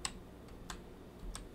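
A computer keyboard is typed on in a few separate, light keystrokes spread over under two seconds, faint against a quiet room.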